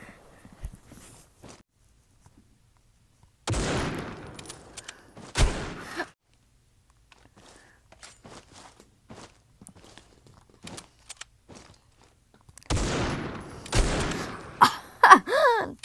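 Gunfire in the mobile shooter Critical Ops during a Sharp Shooter match: a few sharp, loud shots in separate bursts around quieter stretches of faint movement and footsteps.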